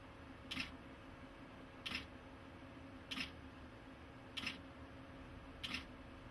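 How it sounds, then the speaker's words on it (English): Nikon D200 shutter firing five times in a steady series of bracketed exposures, each crisp click spaced about 1.2 seconds apart over a faint steady background hum. "simply press the shutter button as many times as necessary to complete the total bracketed shots"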